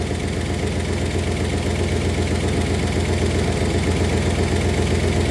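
A 1964 Oldsmobile 394 V8 idles steadily and close by, with a continuous low rumble and a faint, even ticking running through it, no voices.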